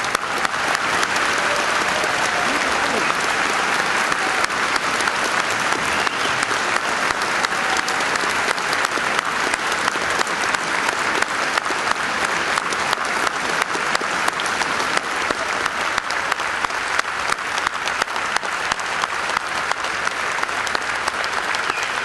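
Audience at a university convocation ceremony applauds family and friends, a loud, sustained crowd clapping lasting over twenty seconds with no talk over it.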